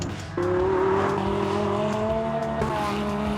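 A manual-gearbox Lamborghini Gallardo, the stripped-out rear-drive version, is driven hard: the engine drones loudly, a quick gear change dips the note and it climbs again, with a brief tire squeal.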